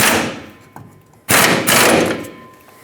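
An impact wrench or ratchet tightens the rear shock mounting nut on a Ford F-350, two loud close bursts of rattling mechanical hammering separated by a short pause.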